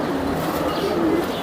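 A silver giribaz pigeon at a pigeon seller's coos faintly, low murmuring calls buried under a loud, steady background roar that stays even throughout.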